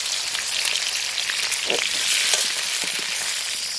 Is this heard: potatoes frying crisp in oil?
yes